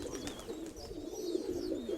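Pigeons coo softly and repeatedly close by, low throaty calls with a few faint chirps from other birds in the background.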